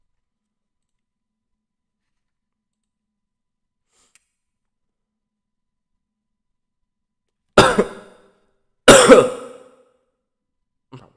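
Near silence breaks into two sharp, close coughing bursts about a second apart, each trailing into a throaty rasp, followed by a faint click at the very end.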